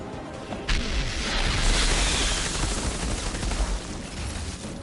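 Explosive bombardment in the Outriders video game, heard as a loud, sustained rumble of booming blasts and crackling fire that rolls on continuously without a break.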